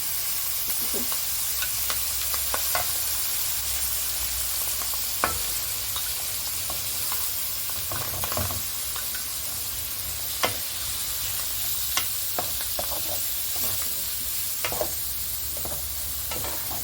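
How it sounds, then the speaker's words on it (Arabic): Onion and canned mushrooms sauté in a pan with a steady, close sizzle that lasts throughout, broken by repeated clicks and scrapes of stirring, with no talking. "كده احنا بنشوح البصلايه مع المشروم زي ما انتم شايفين"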